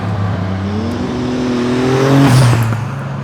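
A Donkervoort P24 RS supercar engine revs hard and climbs in pitch through a long sweeping bend, loud and close, with a brief lift near the end before pulling again.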